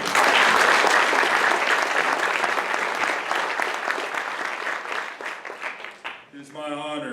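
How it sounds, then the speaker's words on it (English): Sustained applause from an audience at a graduation ceremony, loud dense clapping that fades toward the end before a voice begins speaking. "Round of applause"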